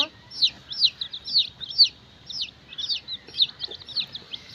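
Many chickens feeding in the sun, giving a fast stream of high, close chirping clucks over a faint low background of pecking and movement.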